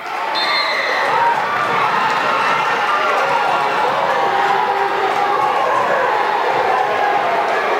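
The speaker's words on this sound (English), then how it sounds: "You can hear the crowd going nuts over there." A crowd at a high school wrestling match roars and cheers continuously in a gym during the final bout, a loud, dense wall of shouting with no break, while voices speak over it.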